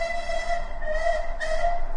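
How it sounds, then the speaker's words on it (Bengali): A train pulling away as a story sound effect, carrying sustained whistle-like tones that swell and fade in a few pulses over a continuous rail rumble. "ট্রেন চলতে শুরু করল।"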